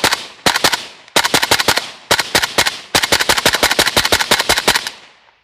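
A Zastava PAP M90 rifle with an 18¼-inch barrel fires full-power 5.56 rounds in four sharp strings of rapid shots, the last string longest, each ending in a short echoing tail, with no speech.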